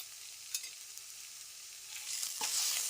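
Ginger garlic paste fries in oil with softened onions, giving a faint, steady high sizzle with a few light stirring scrapes near the end.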